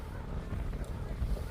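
Strong winter wind buffets the microphone at an artificial mountain in Canada, a rough, low rumbling roar that gusts unevenly across the moment.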